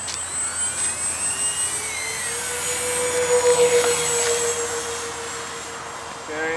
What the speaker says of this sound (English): Ready for takeoff, taking off left to right.